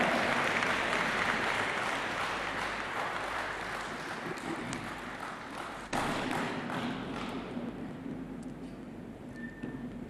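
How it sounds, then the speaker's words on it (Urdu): Audience at a public rally in Balochistan applauding as the Prime Minister of Pakistan takes the stage, a broad continuous roar of clapping that gradually thins and softens, with a low steady hum underneath. "استقبال کیجیے گا آپ کی بھرپور تالیوں میں"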